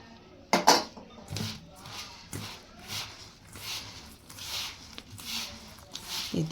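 A spoon stirs onion, chilli and ghee in a pan, making repeated close scraping and clinking strokes about every half second, with a louder clatter near the start.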